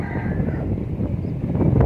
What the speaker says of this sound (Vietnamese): Cả nhà thấy gió ghê không?